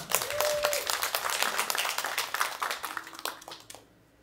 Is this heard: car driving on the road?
no